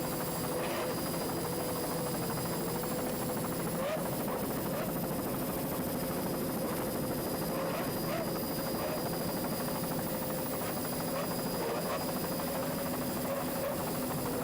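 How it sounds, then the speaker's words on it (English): Twin 200-horsepower Johnson outboard engines on a racing powerboat at an offshore powerboat race, a steady continuous droning roar with a slight wavering pitch, heard at a distance without breaks. "Let's listen to those two 200-horsepower Johnson outboards."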